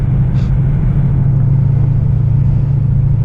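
Steady low engine rumble from a 1985 Chevrolet Monte Carlo on 215 tires, driving along at an even pace with a constant loud drone and no voices.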